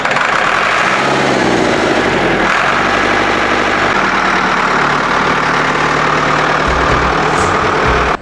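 A vintage Ford tractor engine runs loudly and steadily close by on city streets, a constant heavy rumble that holds the whole time with a slight shift in pitch midway.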